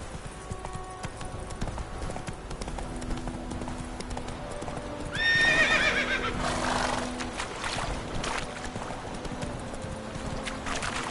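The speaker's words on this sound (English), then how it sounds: "Whoa there, Roach." A horse in the video game The Witcher moves along with a steady, rhythmic clip-clop of hooves, and a whinny rises briefly in the middle over a constant ambient background.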